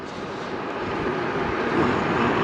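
A 250 W Charged F1 hub-motor e-bike runs under steady throttle, giving a constant droning whir that swells slightly toward the end.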